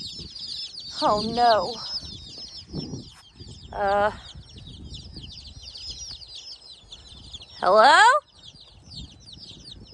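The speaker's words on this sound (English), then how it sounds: "I was just trying to love my chickens." Young backyard chickens clucking and peeping in short, scattered bursts, close and fairly quiet, with a few louder squawks while someone talks to them.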